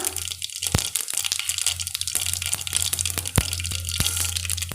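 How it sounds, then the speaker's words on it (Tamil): Mustard seeds and cumin crackle in hot oil for a Tamil turkey berry dal kootu, with sharp pops and crackles scattered over a steady sizzle and a low hum, close and fairly loud, with no talk. "இப்போ நாம் கடுகு சேர்த்துடலாம் கூடவே நாம் சீரகம் போட்டுடலாம்"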